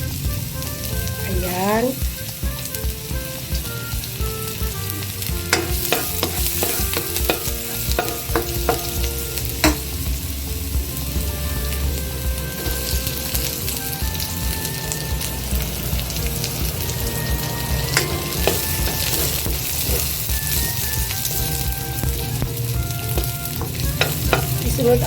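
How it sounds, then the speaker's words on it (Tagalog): Ingredients for sweet and sour fish sauté in a hot pan, a loud continuous sizzle with clattering stirs throughout and a brief word spoken over it. "Gigisa na tayo guys."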